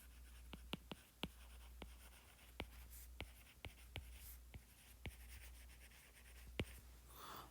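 Chalk or marker tapping and scratching across a board during a conservation-of-energy physics lecture, a series of sharp, fairly quiet strokes and taps at irregular intervals over a low steady room hum, no talking.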